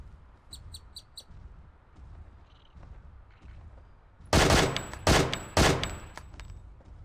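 Gunfire aimed at a dinosaur in a Jurassic Park video game: a cluster of three loud, sharp shots in quick succession, standing out from a quiet, faintly chirping jungle backdrop.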